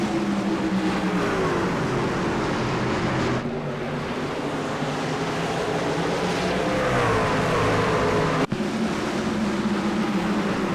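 Race trucks rolling off at the start of a North Wilkesboro event in a video game, giving a loud continuous engine roar with rising and falling pitch as several trucks pass, and a sharp click near the end.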